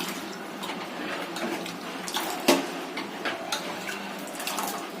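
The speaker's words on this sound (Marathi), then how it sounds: "मी थोडंसं अजून पाणी घालते" Water, about half a glass, is poured into a cooking pot of Malvani-style black pea sambar, a faint, steady splashing trickle lasting several seconds with no talk.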